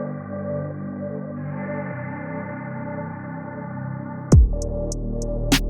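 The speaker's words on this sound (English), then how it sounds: "Bass drop sounds like this." A music-producer bass drop effect: layered synth tones hold and shift briefly, then a deep, booming low hit drops in suddenly with a downward sweep, followed by sparse high clicks and a second thump.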